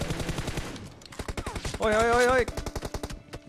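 Rapid gunfire in the mobile shooter Battlegrounds Mobile India, close and rhythmic bursts running nearly nonstop, with a voice shouting repeatedly in the middle.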